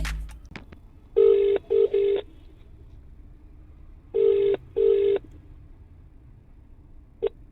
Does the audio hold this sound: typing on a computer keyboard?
no